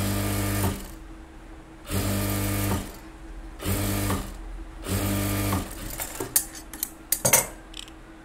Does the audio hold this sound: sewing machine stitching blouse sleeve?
yes